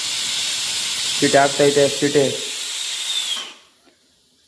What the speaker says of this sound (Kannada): ಸೀಟಿ ಆಯಿತು